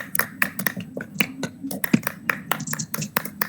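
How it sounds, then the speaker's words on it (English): A small audience at a stand-up comedy show claps in quick, scattered, sharp hand claps that run steadily and unevenly throughout, fairly close. "Let's give a big round of applause"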